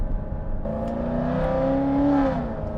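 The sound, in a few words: 2023 Corvette C8 engine revving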